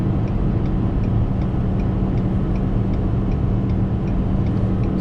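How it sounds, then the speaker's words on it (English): An engine cooling fan whirs steadily inside a car running at about 2700 to 2800 RPM near 80, with a constant drone and low hum plus faint, regular ticking over a continuous, fairly loud engine and road noise. "Fan just kicked on."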